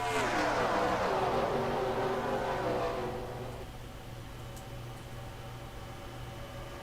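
Race car engines roar together at Michigan in a racing video game, a loud sustained drone that fades somewhat after a few seconds into a steady, continuous hum.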